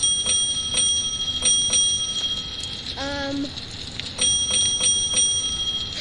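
A bell rings inside a video game, with repeated bright chiming strikes in a regular rhythm over a busy steady background. The strikes pause briefly while a person makes a short hesitation sound, then resume.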